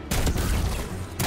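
Gunfire from a large weapon in the video game Destiny 2, a dense loud burst filling the short moment with booming low rumble and a sharper crack near the end.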